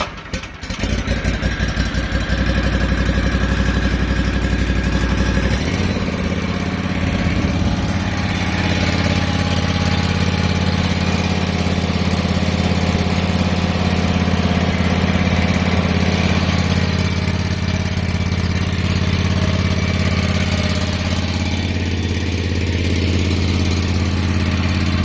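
A lawn mower engine, choked a little in cold weather, catches after a brief pull and settles into a loud, steady, close idle that drones on without a break.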